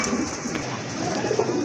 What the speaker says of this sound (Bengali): এক জোড়া রেড লক্ষ্মী কবুতর